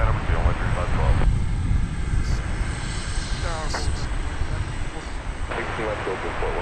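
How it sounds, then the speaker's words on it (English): A Martin Air Super Cargo Master cargo plane landing at DFW Airport makes a steady, broad engine roar throughout, with tower radio chatter heard alongside it. "So that was Martin Air Flight 662, a Super Cargo Master"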